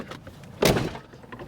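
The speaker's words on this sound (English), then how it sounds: "when this door closes" A camper van door in a DIY van build swings shut with one close, solid thud, set against quiet interior background noise.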